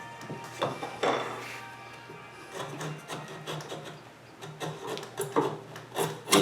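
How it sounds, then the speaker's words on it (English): A rasp or file scrapes the rough sawn edges of a wooden orchid mount for a Dendrobium, giving quiet, irregular rubbing strokes in short bursts, close by and alone. "I'm just taking the rough edges off where it was sawn"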